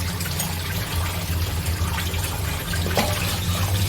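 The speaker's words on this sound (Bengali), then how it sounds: "এবার ঠান্ডা জলের মধ্যে রানিং কোল্ড ওয়াটার, কোল্ড না নর্মাল টেম্পারেচারের ওয়াটারের মধ্যে সেটাকে জাস্ট একটু" Cooked pasta is rinsed under running room-temperature tap water, a steady close splashing rush that continues without pause.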